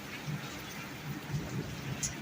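Very heavy rain pouring on a mud house in Punjab, a dense steady hiss of drops drumming on surfaces, close and continuous throughout with no voices.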